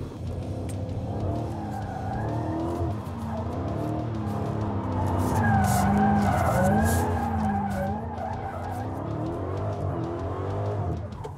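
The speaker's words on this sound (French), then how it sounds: "Ça glisse, cette voiture-là. C'est facile, très, très facile à drifter." Dodge Challenger SRT Hellcat or Chevrolet Camaro ZL1 drifting on a tight race circuit, tires skidding and squealing in a long, continuous wail over a steady engine roar, loud and close throughout.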